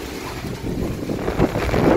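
A heavy rainstorm roars outside, a broad rushing wash of water and wind noise that swells slightly toward the end, with no voices.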